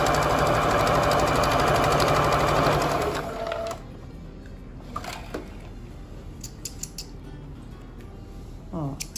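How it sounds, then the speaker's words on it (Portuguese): A sewing machine stitching fabric for a pet bed runs in a fast, steady mechanical whir for about three seconds, then stops. Quieter handling sounds and soft clicks follow. "Eu vou costurar ele, então, na caminha."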